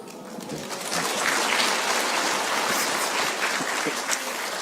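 Sustained applause from an audience at a Buddhist monk's question-and-answer talk in a district office hall, a dense even wash of many hands clapping at steady loudness without a break.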